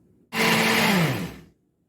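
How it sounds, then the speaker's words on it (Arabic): An electric blender whirs for just over a second, mixing oil, eggs and vanilla: a sudden loud, close motor roar that holds steady and then cuts off into silence. "هضرب بقى المكونات دي مع بعض كويس قوي بالخلاط"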